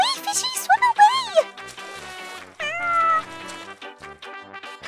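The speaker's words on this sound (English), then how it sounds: "Oh, the cats are coming!" Several cartoon-style cat meows in a children's toy show, rising and falling in quick bursts, fairly loud and close, with a brief pause before a longer drawn-out meow.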